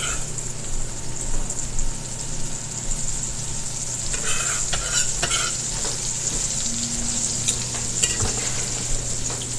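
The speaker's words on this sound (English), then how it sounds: "Just gonna saute the garlic a little bit." Garlic sautéing in melted butter in a pan, a steady close sizzle with occasional stirring scrapes and light clinks.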